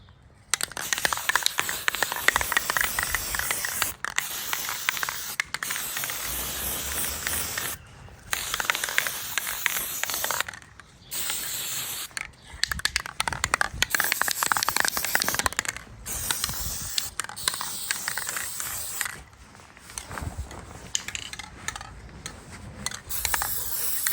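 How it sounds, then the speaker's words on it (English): Black spray paint hisses from a can onto a canvas in repeated bursts, long and short, separated by brief pauses, close up. "I'm going to use some black spray over it"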